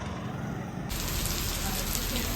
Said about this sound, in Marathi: अचानक पाऊस चालू झालाय.